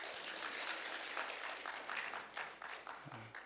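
Applause from a church congregation during a worship service, a faint, steady wash of clapping that swells and then thins toward the end, with a brief voice just before it stops.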